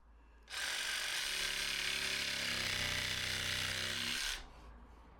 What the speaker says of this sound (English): this is good sort of practice for using the jigsaw here.